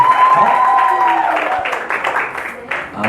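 A congregation at a live church service applauds in a loud, dense wash of clapping that starts strong and gradually thins, with someone speaking over it throughout.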